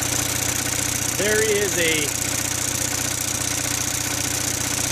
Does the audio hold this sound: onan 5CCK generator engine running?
yes